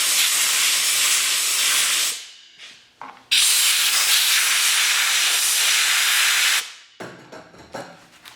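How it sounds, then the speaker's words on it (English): Compressed air blasts over a freshly pressed kydex holster in a sight channel jig, two long loud hissing bursts broken by short sputtering gaps and a final brief puff. "Apply a little bit of compressed air to cool it."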